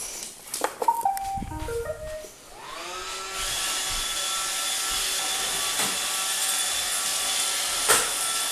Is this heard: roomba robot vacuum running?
yes